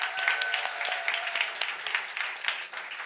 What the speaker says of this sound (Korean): 우리 박수 한번 보내드릴까요